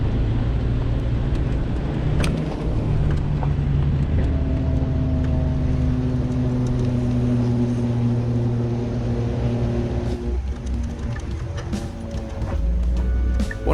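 A Subaru Crosstrek drives the rough Devil's Canyon trail in Colorado, its engine a steady low drone that shifts in pitch. Occasional bumps and knocks come through near the end.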